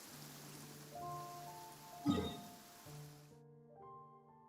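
Soft hiss of rain in the video game Genshin Impact plays under sustained game music, with a brief sharp click in the middle; the rain cuts out before the end.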